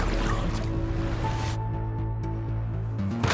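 A character falling into water in the VR game Wanderer on Meta Quest 3 makes a broad splash and bubbling wash that cuts off abruptly, with steady low musical tones running underneath.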